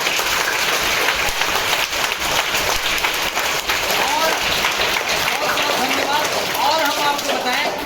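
Dense, steady applause from a large group of schoolchildren fills the whole stretch, loud and continuous, with faint voices mixed in.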